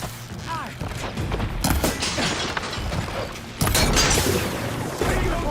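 Gunfire in the game Horizon Forbidden West, a busy stretch of shots and mechanical clatter in a battle mix, growing louder partway through.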